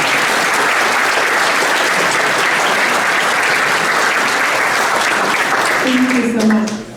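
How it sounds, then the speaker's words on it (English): A reception crowd applauds the museum interns, steady dense clapping filling the room for about six seconds before tapering off as a voice begins to speak near the end. "I'd like to request a round of applause to our museum interns for putting together such a beautiful reception."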